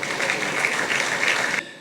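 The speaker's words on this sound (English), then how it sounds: "I believe Mr. President deserves a round of applause" Brief burst of audience applause at a formal governance event honouring a president, steady clapping that cuts off abruptly near the end.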